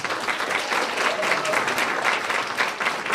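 An audience at a school honors ceremony gives a sustained round of applause, dense steady clapping throughout without a break.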